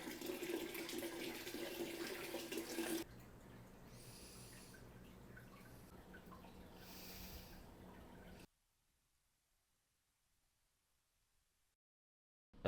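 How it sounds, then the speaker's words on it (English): Tap water runs into a 20 gallon long aquarium: a loud, rushing pour for a few seconds, then a softer splashing trickle, before cutting to near silence. "I'm going to put some tap water in there as well for some minerals."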